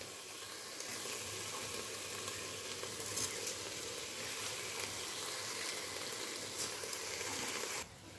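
Soaked rice and lentils tipped into a pot of mutton kanji, giving a soft steady sizzle and bubbling that holds for several seconds, quiet and close, before cutting off near the end.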